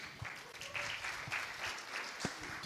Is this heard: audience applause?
yes